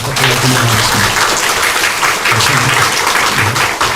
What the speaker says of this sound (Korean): 다시 한번 우리와 같은 박수로 축하해 주시면 감사하겠습니다